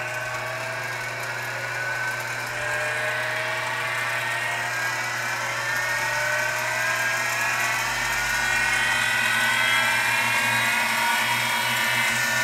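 A CNC spindle motor running steadily, its whine climbing gradually in pitch as it speeds up, close and continuous with no talking.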